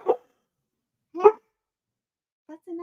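A dog barks a few times in a house, sharp separate yaps spaced about a second apart, fairly close and clear with quiet between, the last ones shorter and more whiny.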